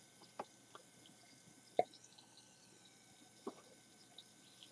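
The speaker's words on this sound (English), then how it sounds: "it makes a nice popping sound. I hope you can hear the bubbles forming" Hydrogen peroxide decomposing over a platinum catalyst gives off sparse, faint popping bubbles, a few sharp isolated pops spaced irregularly over a quiet background.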